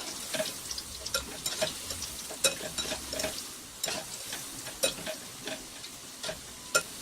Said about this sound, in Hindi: इसे हमें क्रिस्पी होने तक कुक करना है।